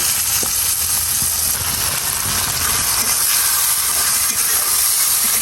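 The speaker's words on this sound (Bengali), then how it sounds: "আগে ডালটা একটু ভেজে নেবো" Lentils (dal) fry in a hot pan for a vegetable dish cooked with banana plant, giving a loud, continuous hiss and sizzle that stays steady throughout with no voices.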